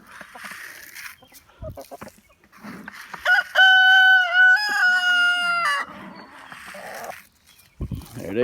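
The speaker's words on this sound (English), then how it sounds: "See that chicken right there?" Backyard chickens, including hens, clucking with a loud stretch of harmonic, sustained crowing-like calls in the middle, close by, with scattered softer clucks and noises around it.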